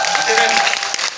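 Audience applause at a film screening event carries on near and steady, with a voice talking over the clapping throughout.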